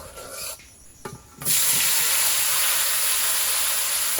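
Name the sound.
stirring cardamom and whole cumin in pan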